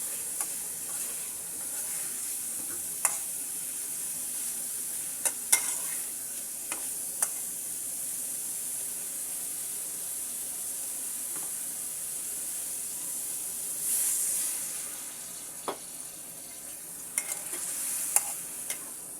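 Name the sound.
stirring and sautéing snakehead fish with spices in gravy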